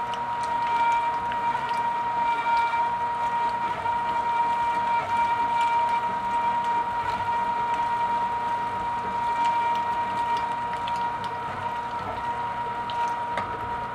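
A one-horsepower number 22 Big Bite meat grinder grinds pork for breakfast sausage with a steady, unbroken motor whine and hum that stays close and loud throughout, with faint rattles over it.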